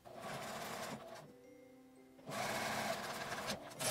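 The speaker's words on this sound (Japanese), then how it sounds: "今回は早く仕上げたいので折ってミシンをかけます。" A sewing machine runs in two steady bursts, stitching down the folded edge of a cut-cloth neck warmer, with a short pause between runs where the motor noise drops away.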